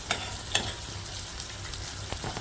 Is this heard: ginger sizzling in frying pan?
yes